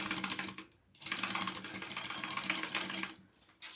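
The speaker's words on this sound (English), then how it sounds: "I'm going to do 2 rows of stitching on these" A sewing machine runs two rows of stitching on a harlequin pouch, humming in steady close bursts with a brief pause near the start, then stopping before starting up again.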